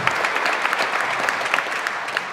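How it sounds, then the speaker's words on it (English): A concert audience at a pops orchestra performance claps enthusiastically for the woodwinds, dense overlapping handclaps with a few sharper individual claps standing out, sustained and fairly close. "Give them applause."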